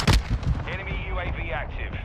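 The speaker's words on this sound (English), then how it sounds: "Hostile mortar strike near your position" Sharp explosive blasts from an incoming hostile mortar strike in Call of Duty: Modern Warfare 2 (2022) gameplay, one heavy boom up front followed by rumbling impacts, with a voice speaking alongside.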